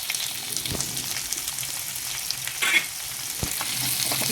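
Onion frying in a little hot oil with cumin and mustard seeds, a soft steady sizzle broken by a few stirring clinks and scrapes.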